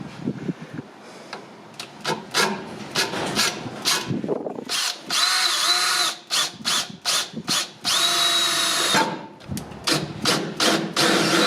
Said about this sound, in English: If I can get my drill onto it.